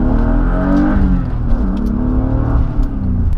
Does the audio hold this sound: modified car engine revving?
yes